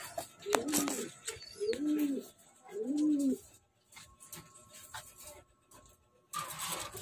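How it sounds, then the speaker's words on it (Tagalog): Young racing pigeons coo inside a cage, three distinct, close, rolling coos in quick succession followed by quieter rustling and a brief burst of noise at the end. "So ayan o, mga bagong young bird."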